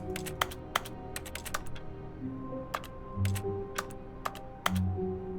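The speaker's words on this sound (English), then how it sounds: "I'm getting clicks. Like I'm typing on a keyboard." Keyboard typing clicks in The Stanley Parable: Ultra Deluxe, a scattered series of sharp, crisp clicks at irregular intervals over a low steady hum.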